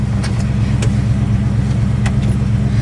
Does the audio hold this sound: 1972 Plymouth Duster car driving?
yes